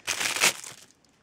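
Plastic bags crinkle and rustle as an Aliexpress parcel is unwrapped, a close burst of crumpling that fades out after about a second.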